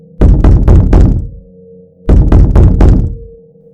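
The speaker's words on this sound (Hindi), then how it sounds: "कोई उनके घर के दरवाजे को लगातार पीटे जा रहा था।" Someone pounds on a house door at night, delivering two loud, close bursts of four heavy knocks each, separated by a short pause, with a low resonant hum lingering between.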